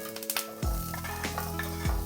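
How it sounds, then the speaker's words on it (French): Food hits hot olive oil in a pan on a gas stove with a loud sizzle, then keeps crackling and frying, with clanks of a pan and utensil being stirred nearby. "ici je mets de l'huile d'olive."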